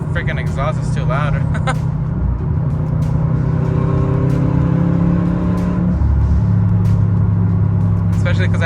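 A 2021 Subaru STI exhaust with a cutout valve drones loudly and steadily close by, rising in pitch through revs, while someone talks over it at the start and end.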